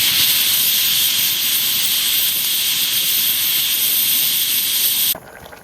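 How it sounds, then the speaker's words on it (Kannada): A pressure cooker whistles while rasam cooks, a loud, sustained, close steam hiss that holds steady for about five seconds and then cuts off abruptly. "ಸಾರು ಒಂದು 6 ವಿಷಲ್ ತೆಗೆದು ಸಾರು ಬೇಯಿಸಿ ಆಯ್ತು"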